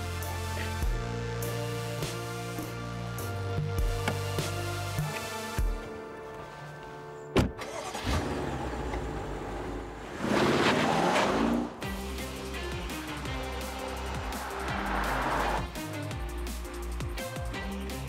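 A BMW 750i xDrive luxury sedan drives past with a smooth, subdued engine note and tyre rush that swells and fades. There is a sharp thunk partway through and a few louder passes of road noise.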